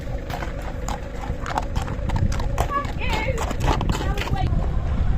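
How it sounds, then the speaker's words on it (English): A horse's hooves clip-clop close by on a road near a bridge along an old tramway route, a steady rhythm over traffic noise with a voice talking over it. "There's also a horse following me."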